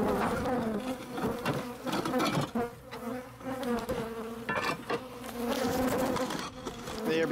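Bees and wasp-like insects swarm around a huge hive inside a roof near a joist, a dense, continuous buzzing drone close by, rising and falling in steady waves without any talk.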